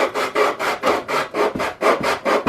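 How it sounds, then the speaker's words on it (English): Sandpaper rubbed along the edges of wooden pieces for a Stormy 45 model boat, a steady rhythm of about ten close, raspy back-and-forth strokes with no talk. "on the bottom pieces by sanding now around the edge"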